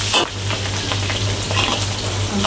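Onions fry in a pan as the base for a chicken curry in coconut milk and coriander, a dense, close sizzle running steadily, with faint scrapes of stirring and no voices.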